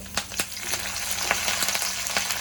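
Finely chopped curry leaves sizzle and crackle in hot oil with urad dal, a steady close frying hiss punctuated by sharp spitting pops.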